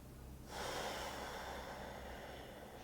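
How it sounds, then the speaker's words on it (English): One deep breath during a yoga exercise for upper-back opening, a long close airy exhale or inhale that begins suddenly after a quiet moment and holds steadily to the end, with no talking. "3 more deep breaths."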